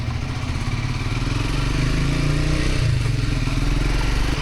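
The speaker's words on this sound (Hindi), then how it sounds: "मैंने अपनी बाइक स्टार्ट करी और वहां से निकल गया।" A motorcycle engine runs steadily up close on a ride toward Mullayanagiri peak in Karnataka, a constant mid-pitched chugging drone that rises slightly midway, with no voices.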